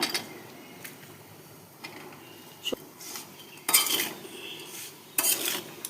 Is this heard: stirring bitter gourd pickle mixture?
yes